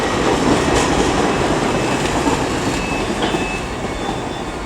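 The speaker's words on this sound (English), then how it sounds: "Just turned up there is 800-208 with the 13:53 LNER Azuma service to Harrogate." LNER Azuma train 800-208 rolls into Leeds station, a steady rumble of wheels with faint rail squeals and clatter, fairly close, slowly easing off toward the end.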